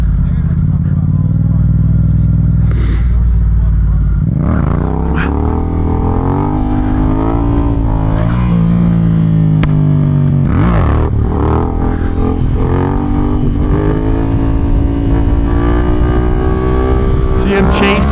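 A Yamaha MT-07 stunt motorcycle drifts in first gear with a loud, close engine that revs up and down in rising and falling sweeps, with a rider talking over the roar.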